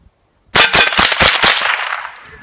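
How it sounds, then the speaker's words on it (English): Rapid burst of .22 gunshots from a Rossi Model 62 pump-action rifle fired outdoors: about seven sharp, loud, close reports in quick succession, each trailing off into a fading echo. "I'm going to fire a few more shots up here close"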